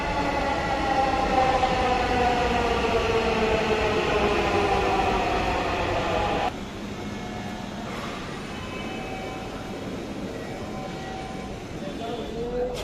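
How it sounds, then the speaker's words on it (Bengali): A metro train pulls into Shahbag station in Dhaka, a loud steady rumble and whine that cuts to a quieter platform ambience partway through, with voices talking over it. "শাহবাগ মেট্রো স্টেশনে ট্রেন চলে এসেছে"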